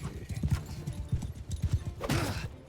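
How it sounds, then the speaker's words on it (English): Horse hooves clatter in a quick, rhythmic gallop in the medieval combat game Mount & Blade II: Bannerlord, close and clear, with a brief snort or whinny near the end. "I need to get an upgraded horse here."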